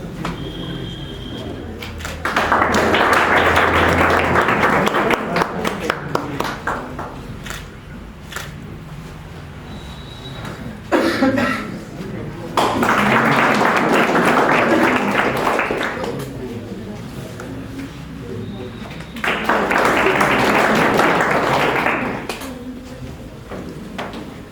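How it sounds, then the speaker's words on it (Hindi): Audience applause at a felicitation ceremony: three loud bursts of broadband clapping, each lasting about four seconds, with quieter gaps of chatter and room noise between them. "सारे लोग ताली बजाएं"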